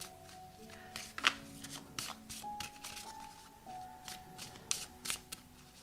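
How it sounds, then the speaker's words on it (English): Oracle cards are shuffled by hand in a quiet room, giving a close series of soft riffling flutters and light taps with faint tonal background sounds. "Let's pull an oracle card."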